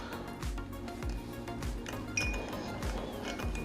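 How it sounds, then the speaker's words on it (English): A spoon stirs matcha in a cup, producing a steady, rhythmic series of light clinks against the ceramic, about one every half second, moderately close, alongside a faint background hum. "So take a spoon and give a nice stir."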